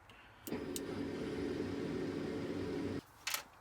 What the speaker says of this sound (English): Without a doubt, one of those pumps is cavitating.